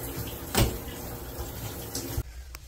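Hotel tap running with weak pressure, a steady close rush of water that cuts off abruptly near the end, leaving quiet room tone with a faint knock.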